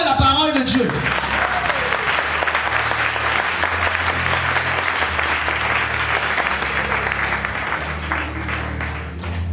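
A church congregation at a Sunday service applauds loudly and steadily for several seconds, with clapping that stays dense and sustained and fades slightly at the end.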